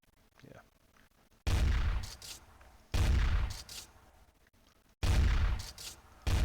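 Gunfire bursts from a Quake-inspired boomer shooter game made in Unity, three loud, dense volleys separated by short pauses, with quieter game ambience between them.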